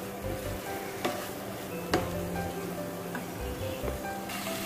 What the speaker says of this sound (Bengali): এবার খুব ভালো করে আবার মিশিয়ে নেব মশলার সাথে, যাতে এটা কোটিং হয়ে যায়।